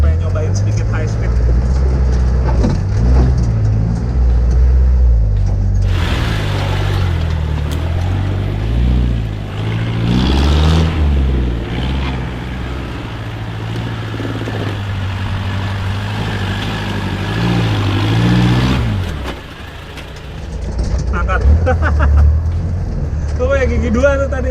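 A Daihatsu Taft diesel off-road car drives at speed, its engine droning loudly and steadily, rising in pitch through the gears with a brief drop between shifts, while someone talks over it.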